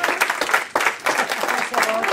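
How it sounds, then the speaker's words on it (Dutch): Audience applause at a Dutch-language live show, a steady wash of clapping with voices and cheering mixed in throughout. "Applaus voor mij, dames en heren."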